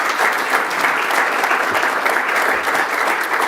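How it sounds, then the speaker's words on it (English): Applause at a city council meeting honoring two departing commissioners, a full, steady burst of many people clapping close and loud throughout, without talk. "if we could just have a round of applause for both commissioners"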